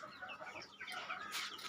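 Hens and chicks of breeds like Tiger, colour bird and Fayoumi chirp and cluck continuously in a pen on a home rooftop, near and moderately loud.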